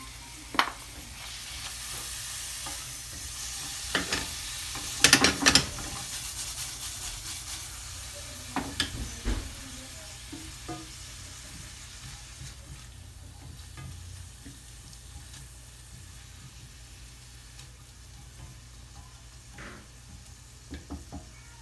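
Mushrooms for a creamy chicken mushroom dish sizzle steadily in a frying pan, with a few louder stirring clatters and bursts of hiss near the start, settling into a soft continuous fry.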